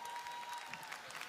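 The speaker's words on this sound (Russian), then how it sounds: "Ваши аплодисменты" Audience applause fills a hall at the RU.TV 2022 Russian music award show, a steady, fairly faint patter of clapping without a distinct start or end.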